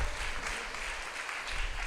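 A church congregation claps together in praise, a steady broadband patter of many hands filling the room at moderate distance, with no clear voices over it.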